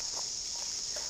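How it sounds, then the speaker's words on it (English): New Zealand chorus cicadas singing in bush, a dense steady high-pitched buzzing drone that holds continuously and loudly throughout, with faint soft knocks underneath. "chorus cicadas. Now these guys get really loud, so these guys are endemic to New Zealand."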